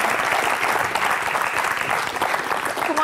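A studio audience at a French TV show applauds, a loud sustained wash of many hands clapping close by throughout.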